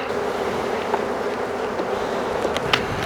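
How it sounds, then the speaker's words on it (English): Dense, steady buzzing of many honeybees close by at a hive being requeened, a continuous insect hum with a few louder passes, no talking. "You see the bees there really keen to meet their new queen."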